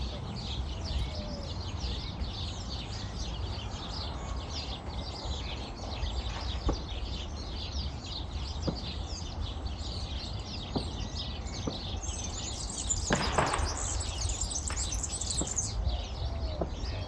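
Wild songbirds such as sparrows, pigeons and warblers call in open countryside during breeding season, a dense continuous chorus of chirps and trills at moderate distance with a brief louder burst near the end.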